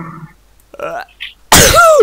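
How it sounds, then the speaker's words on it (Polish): A single loud, close sneeze bursts out suddenly after a few faint mouth and breath noises. "Kichło mi się."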